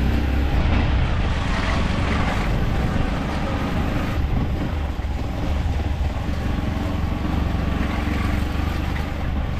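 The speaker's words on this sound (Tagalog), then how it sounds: "Oh, yan na naman ang hangin." Strong typhoon wind from Typhoon Carina roars continuously against the microphone outdoors, a loud, unbroken rush with deep buffeting rumble and no pauses for nearly ten seconds.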